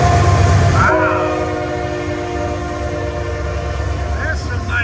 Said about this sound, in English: Looks like we got a little variety on this train.